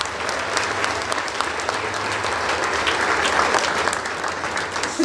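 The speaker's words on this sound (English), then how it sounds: "I wish to invite everyone to give of yourself a round of applause for a job well done." A gala audience at the Jamaica 60 Diamond Jubilee breaks into sustained, even applause, a dense wash of many hands clapping from start to finish.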